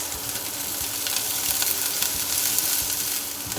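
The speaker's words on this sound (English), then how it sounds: "add the ginger and also the green onions to fry it to give the taste" Ginger and green onions frying in a pan for a vegetarian sticky mi sua dish, a loud, steady sizzle with faint stirring scrapes underneath and no talking.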